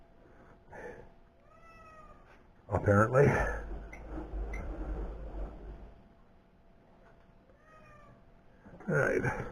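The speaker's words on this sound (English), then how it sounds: "Cat thinks it's supper time again." A cat meows for supper indoors, giving several clear, rising meows spread across the moment, some close and loud, while someone talks briefly in between.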